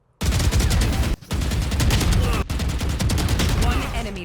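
Rapid automatic gunfire in the tactical shooter Valorant rattles out in loud, dense bursts, broken by two short pauses, with no talking over it.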